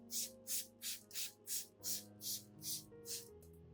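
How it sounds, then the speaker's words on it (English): A spray bottle set to a fine mist applies a fermented apple solution to an orchid, giving nine even, soft hissing puffs in a steady rhythm, close but quiet, with faint background music underneath. "When spraying, you should adjust the nozzle to produce a very fine mist"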